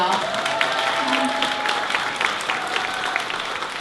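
Audience applause at the opening ceremony of Arts Education Week, a steady, dense clapping wash filling the space, continuing evenly at moderate loudness with faint voices mixed in.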